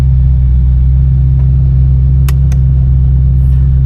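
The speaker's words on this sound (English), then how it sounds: "Let's go ahead and get her started. Cold start, fire right up as expected." A 1977 Lincoln Continental town coupe idling steadily after a cold start, its low engine rumble constant and close throughout, with a couple of brief faint clicks partway through.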